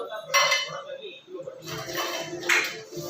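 Plates and cutlery clink and clatter close by in short bursts of ringing metal and ceramic while a voice talks over them.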